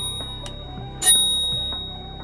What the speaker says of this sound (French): Une sonnette manuelle.